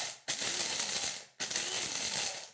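Toasted peppercorns and coriander seeds being ground and crushed by hand, two long continuous gritty grinding strokes with a short break between, close and fairly loud with no talking.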